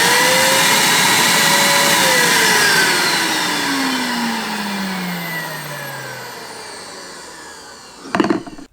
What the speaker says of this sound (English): So I'm going to start the vacuum.